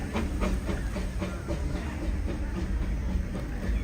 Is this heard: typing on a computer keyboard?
no